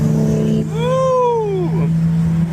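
A worn 25-year-old Nissan engine hums steadily while one turbo whistle sweeps up and then falls away over about a second, loud and close.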